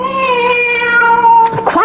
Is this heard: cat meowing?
yes